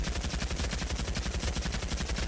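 Rapid full-auto bursts from a STEN submachine gun in the VR shooter Pavlov VR, a steady rattling string of shots at close range with no pauses across the whole stretch.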